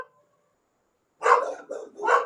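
After a second of near silence, a dog barks three times in quick succession, loud and close, with no talk over it.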